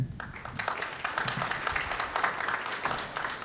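An audience applauds women e-commerce entrepreneurs at an event in Los Angeles, a dense, steady wash of clapping from many hands that lasts throughout.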